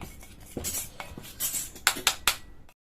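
Paneer 65 batter being mixed in a bowl, with a utensil scraping and clinking against the sides in irregular strokes, several sharper knocks toward the end, close and alone without talk.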